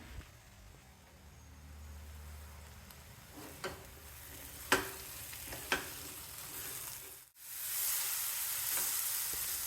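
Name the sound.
masala powder sautéing in a pan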